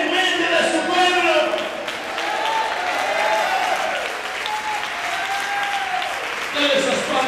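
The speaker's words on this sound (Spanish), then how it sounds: "Dale esas palmas al Señor." A church congregation claps loudly and continuously during a thanksgiving service, with a preacher's voice carrying over the applause.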